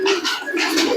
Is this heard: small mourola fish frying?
no